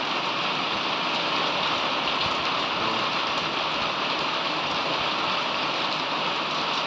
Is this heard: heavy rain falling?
yes